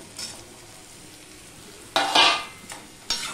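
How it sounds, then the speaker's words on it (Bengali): Drumstick pieces and tomato go into a pan of half-boiled potatoes, giving short bursts of sizzling and stirring with a bright hiss after a quiet stretch, then a final sizzle. "এবার আমি দিয়ে দিচ্ছি সজনে ডাঁটা আর টমেটো।"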